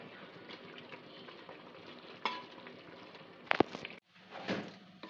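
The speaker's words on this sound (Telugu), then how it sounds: "వేసి కొత్తిమీర కొంచెం కలిపి కాసేపు అది మగ్గనిస్తాం బాగా." Chicken curry cooking in a pan with coriander stirred in gives a soft, steady sizzle and bubbling, broken by a few sharp metallic clinks and scrapes of a spoon near the end.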